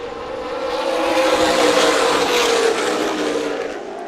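Race cars in the SPEARS Southwest Tour Salted Metals 150 at Colorado National Speedway roar back to green on a restart, a dense, steady engine drone that swells and holds for several seconds without talk.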